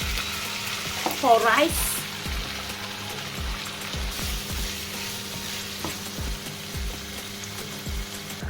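Sea fish cooking with a splash of wine in a pan for Italian rice, giving a steady frying sizzle with scraping stirs and clinks throughout and a brief bubbling hiss near the start, plus a few faint words.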